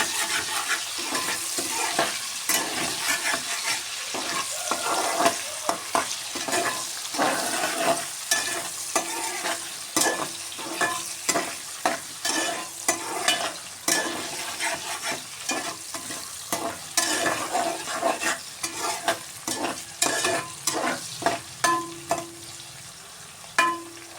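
Chopped onion sizzles steadily in oil in a pressure cooker while making pulao, with frequent scraping stirs of a spatula against the metal pot, close and continuous with no talk.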